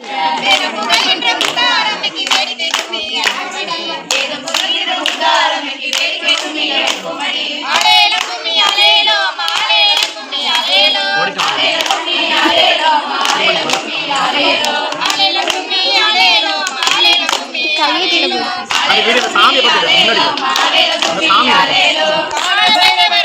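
Women sing a kummi folk song together while clapping in a steady rhythmic pattern for the kummi folk dance, the claps sharp and regular under the continuous group singing.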